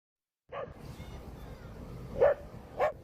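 A dog playing in a park gives a few short, sharp barks and yips at moderate distance, spaced about a second or more apart over low background noise.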